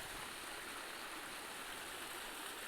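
Diamond Creek water rushes steadily, a continuous close, full-bodied flowing hiss with no pauses or voices.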